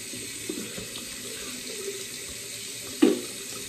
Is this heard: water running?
yes